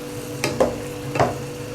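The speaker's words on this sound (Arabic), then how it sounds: "يلا نقلب بقى الكبده" Liver with chili peppers and garlic sizzles steadily in a pan, with two or three soft scraping strokes as it is turned over, close and moderately loud, no speech.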